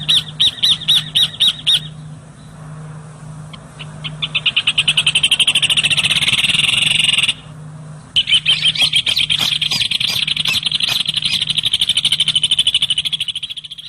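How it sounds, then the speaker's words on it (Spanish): Birdsong at an Argentine estancia that includes a rufous hornero: loud, rapid repeated calls and trills in bursts, with a brief pause midway, close and clear with no talk. "Obvio, el hornero"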